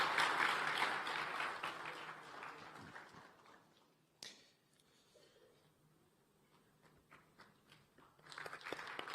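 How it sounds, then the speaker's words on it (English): Applause from the audience at a business forum, a fairly quiet, dense patter of clapping that dies away to near silence, then a single sharp clap and a fresh swell of clapping at the end. "if you could please give them a round of applause for gracing us with your presence today"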